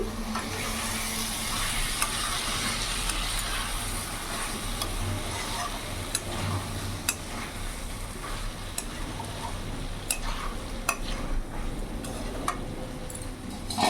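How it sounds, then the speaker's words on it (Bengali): Potatoes and cauliflower fry and are stirred in a pan, a steady close sizzle with scattered scraping ticks from the spoon throughout. "ভালো করে নাড়াচাড়া করে অনেকটা কষিয়ে নিয়েছি।"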